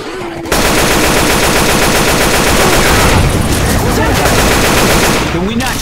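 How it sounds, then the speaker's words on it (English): Loud, sustained automatic gunfire in Left 4 Dead 2, a dense rapid stream of shots that starts abruptly after a brief quiet moment and keeps going nearly without pause. "Can we not shoot each other?"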